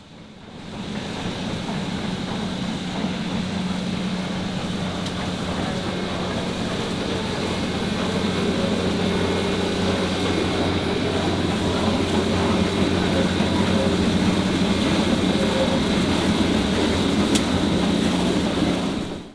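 Great Smoky Mountains Railroad steam locomotive 1702, a former Southern Railway line engine, rolls past outdoors with a steady, loud rumble and low drone holding for about twenty seconds, with faint sharp accents near the start and end.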